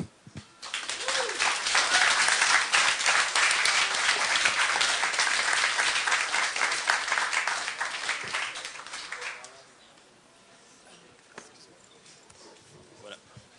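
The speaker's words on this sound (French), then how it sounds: "ça vaut une autre bonne main d'applaudissement" Audience applause after a short presentation swells into dense, sustained clapping for several seconds, then tapers off into quiet room sound.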